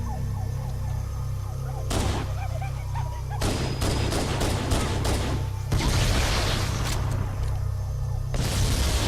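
Pistol gunfire and battle noise against Covenant grunts and jackals in the Halo video game: several loud, sharp bursts of shots and booms clustered over a low droning background, with irregular spacing and near, dense impacts.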